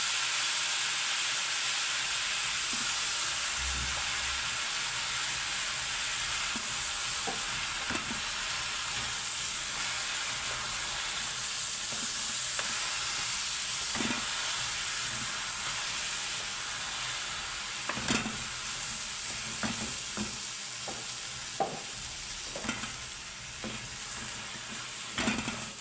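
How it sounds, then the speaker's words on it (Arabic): Rice is stirred with fried vermicelli in a pot for Egyptian koshari, giving a steady close sizzle and hiss with scattered scrapes and clinks of the spoon over about twenty-five seconds, with no talking. "نلوح الرز مع الشعرية."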